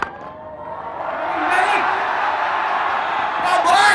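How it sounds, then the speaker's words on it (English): A cricket crowd at an India versus Pakistan Test match roars in a broad, sustained swell of cheering, rising in the middle and holding loud to the end. "and crowd cheered."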